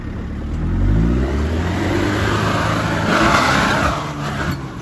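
A 4WD truck on an off-road outing in Newnes revs hard as it accelerates, the close engine roar swelling, easing slightly, then surging again before dropping away, with no voices.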